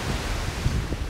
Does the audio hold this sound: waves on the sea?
yes